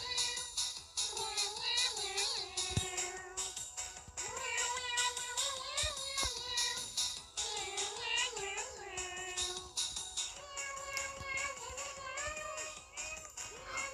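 Repeated cat meows with rising and falling pitch, one after another, over a busy background of Roblox game sounds and music.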